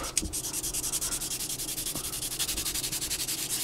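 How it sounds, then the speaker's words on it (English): Wet sanding of a 3D-printed 1/72 scale Saab 38 model aircraft, a rapid, even run of close scratchy rubbing strokes with a regular back-and-forth rhythm and no talk. "Just a little bit of a wet sand."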